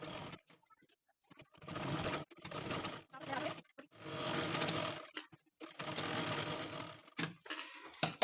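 A sewing machine stitches along the edge of a blouse in several rapid whirring runs, each lasting about a second, separated by short pauses. It is close and clear, with no talk.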